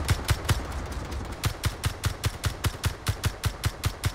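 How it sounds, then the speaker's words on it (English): Rapid bursts of video-game gunfire aimed at a turret during an air base attack, a steady rhythmic stream of sharp shots repeating about every quarter second, loud and close with no talk. "I'm shooting in the left one, I'm not hitting it at all"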